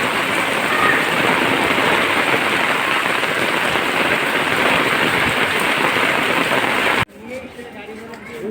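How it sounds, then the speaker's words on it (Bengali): A loud, unbroken downpour of heavy rain near a local cattle market roars for about seven seconds, then cuts off abruptly into a quieter room tone. "দেখেন কি পরিমাণে বৃষ্টি"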